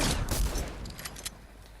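A quick burst of SCAR rifle fire in Fortnite cracks out loud at the start, followed by a few fainter shots and rattling echoes that fade away.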